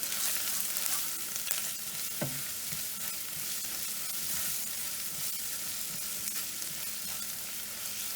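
Cilantro fritter filling seasoned with sugar, salt and garam masala is stirred in a frying pan, giving a steady close sizzle with light scraping strokes throughout.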